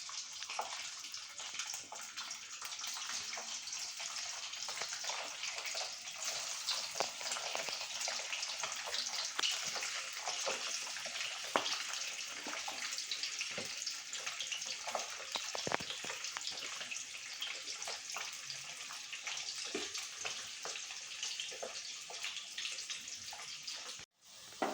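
Chicken pieces frying in a pan for chicken pickle give a continuous, close, quiet hiss and crackle, a steady bubbling sizzle with small pops throughout.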